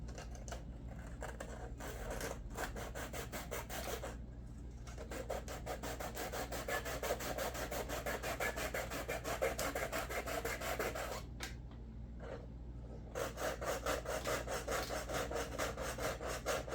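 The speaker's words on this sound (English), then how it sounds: "I created this so that I could sand below the level here." Hand sanding with a Scotch-Brite pad used as a sanding block, working below a surface level on a Peavey SP5TI speaker, a steady rhythmic scratchy rubbing of quick back-and-forth strokes that runs almost continuously, with two short pauses.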